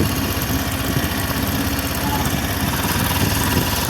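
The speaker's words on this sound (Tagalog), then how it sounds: "At saka malakas ang makina." Motorcycle engine laboring loudly and steadily on a rough unpaved road off a national highway, a constant close rumble with vibration and no pauses.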